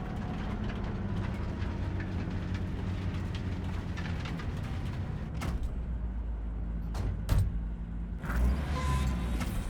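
A heavy train rumbles in the video game Cyberpunk 2077, a steady loud low roar with rattling and a few sharp metallic clanks and door-like hisses near the end.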